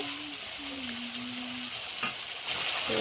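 Spice masala for egg curry fries in oil until the oil separates, giving a steady close sizzle with occasional stirring scrapes and a faint tonal whine in the background.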